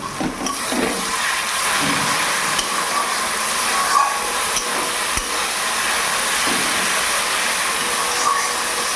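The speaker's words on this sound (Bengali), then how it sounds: "এবার এই মশলার জলটা দিয়ে দেবো" Spice water is poured into masala frying in a pan, setting off a loud, close, sustained rushing hiss of sizzling liquid that continues steadily with no talk.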